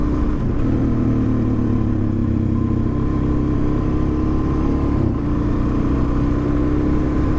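A Suzuki DRZ400 motorcycle engine runs loud and close, holding a steady rumbling drone with a slight dip and recovery partway through, and no voices over it.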